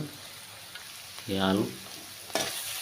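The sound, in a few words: potato paste frying in a pan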